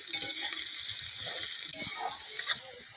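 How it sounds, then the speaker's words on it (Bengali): A steady hiss of onion frying in a pan, with soft stirring scrapes rising and falling, up close and with no talking. "পেঁয়াজটা ভাজা হয়ে গেছে"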